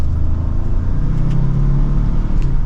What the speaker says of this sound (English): And we'll give it another acceleration